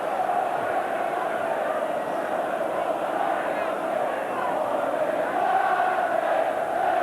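A big football derby crowd at the stadium for Sheffield Wednesday v Sheffield United in 1992 keeps up a steady distant roar, a continuous broad murmur that swells slightly near the end.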